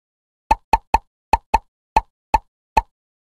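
Cartoon soap bubbles pop one after another in a toddler number-learning game, eight short bright plops in a loose rhythm, close and clean with silence between them.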